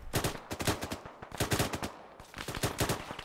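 Rapid automatic gunfire from suppressive fire in the military shooter Arma 3, bursts of closely spaced shots in three runs with brief pauses between, loud and close with no talk.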